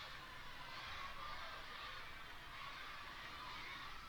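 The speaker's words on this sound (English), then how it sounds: "Crowd's starting to make some noise." Crowd at a college softball game between Oregon and Loyola Marymount makes a steady, moderately distant murmur and cheer, a continuous wash of many voices without clear individual words.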